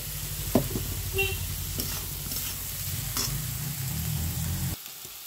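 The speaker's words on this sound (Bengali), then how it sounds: "এটা আমাদের লাল লাল করে ভাজা হয়ে গেছে" Chopped onion and capsicum frying in a pan for pav bhaji, a close, continuous sizzle with the scrape and clatter of a stirring spoon, ending abruptly with the heat cut.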